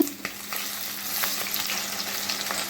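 Kachki fish pakora fries in oil over a medium flame, a steady soft sizzle broken by scattered pops and crackles, heard alone with no voices.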